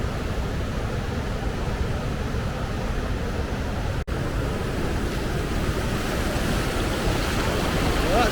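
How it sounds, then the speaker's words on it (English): Water rushes steadily through a flume beneath an old railway bridge in Hamra National Park, Sweden: a continuous, broadband roar with a light wind buffeting the microphone, unbroken for the whole stretch apart from a single split-second dropout. "basically what you've got here is a flume"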